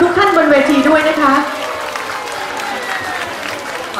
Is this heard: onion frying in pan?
no